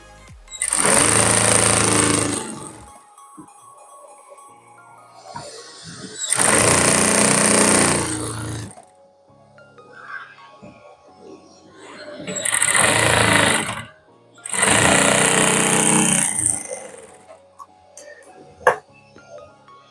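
A sewing machine stitches kurti fabric in four loud, close bursts of rapid whirring, each a few seconds long, separated by quiet gaps with faint clicks.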